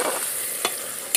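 Onions and masala frying in a pot, a steady close sizzle broken by two short scraping strokes of a stirring spoon.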